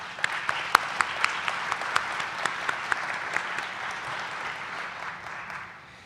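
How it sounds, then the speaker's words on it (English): An audience at a college anniversary celebration claps steadily, a dense spread of hand claps with a few sharp nearby claps standing out, fading slightly toward the end. "Please join me in giving them another round of applause."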